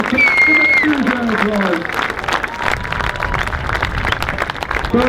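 Crowd applauding at a British Drift Championship podium ceremony at Rockingham Speedway, a dense sustained clapping heard through a PA announcer's voice early on.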